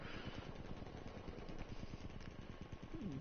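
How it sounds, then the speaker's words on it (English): Machine gun fire rattles in a Frontlines video game as a dense, rapid, continuous burst of shots, heard at moderate distance without talk. "Bats has a machine gunner set up down here."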